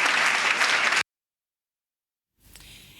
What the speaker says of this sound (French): Il faut applaudir pour elle.